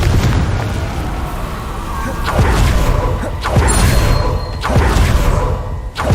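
Hogwarts Legacy's Confringo spell fires repeatedly, several loud booming blasts spaced a second or so apart over a dense, rumbling game soundscape.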